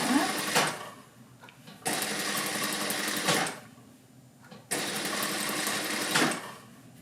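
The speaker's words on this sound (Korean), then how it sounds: "미싱 노루발 1개 간격으로 박아주시면 됩니다." Sewing machine stitching a dress seam with the presser foot as a guide: three runs of rapid, close mechanical whirring, each about one and a half seconds long, separated by brief quieter pauses.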